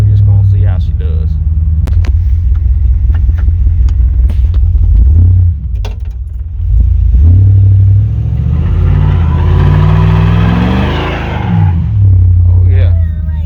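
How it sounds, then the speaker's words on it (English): A 1993 GMC Sierra pickup with a small-block 350 V8 does a burnout, its loud low engine rumble rising as the revs climb and the tires spin with a hissing screech near the end, while people talk over it. "I don't think he'll get mad at us for doing a little burnout in the truck."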